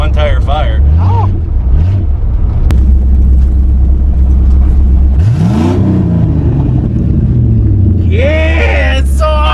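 A straight-piped Mini Cooper engine rumbles loudly up close and revs in rising sweeps, with a deep idle underneath and a person talking over it.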